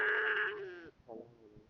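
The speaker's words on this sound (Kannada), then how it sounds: "ಯಾವ್ಯಾವ ತರದ ಕುರಿಗಳ ತಳಿಗಳಿದಾವೆ ನಿಮ್ಮ ಹತ್ರ" Sheep on a mixed-breed farm bleat nearby, one long wavering bleat followed by a shorter, fainter one after a pause.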